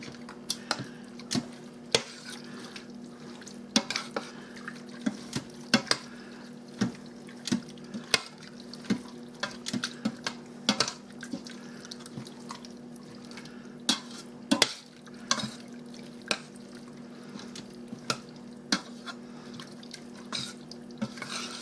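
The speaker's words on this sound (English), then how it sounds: "I'm going to stir all this up." A spoon stirring burrito bowl ingredients in a cooking pot makes light, irregular clinks and taps against the pot, close and fairly quiet, with a faint wet shuffle between the knocks for about twenty seconds.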